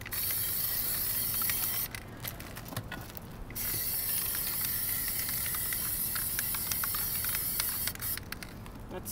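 A Plasti Dip aerosol can spraying a rubber coating onto a part: a steady, close hissing spray running almost continuously, with short pauses between bursts.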